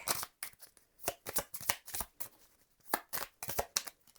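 Cards from an oracle deck being shuffled and drawn, a quick run of crisp papery flicks and slides in irregular bursts, close and fairly quiet with no talking.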